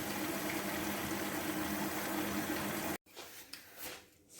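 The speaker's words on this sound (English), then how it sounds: "So the first thing we're going to do is fill the sink with some warm soapy water." Warm soapy water runs into a kitchen sink in a steady, loud gushing stream that cuts off abruptly, followed by softer splashing and water movement.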